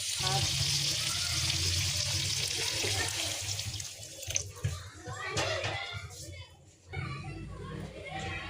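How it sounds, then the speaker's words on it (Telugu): Pre-heated water poured into a pan of chicken egg curry gives a rushing, hissing splash that runs for several seconds and then tapers, with background voices and household noise around it. "ఇప్పుడు ఇందులో ముందుగా వేడి చేసి పెట్టుకున్న వాటర్ని వేసుకుందామండి"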